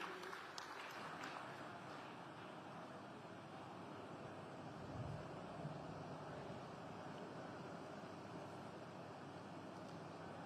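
A large audience at the inauguration of the GATE 2026 expo in Gandhinagar applauds steadily and densely for about ten seconds to welcome the Chief Minister, a continuous wash of many hands clapping with no speech over it.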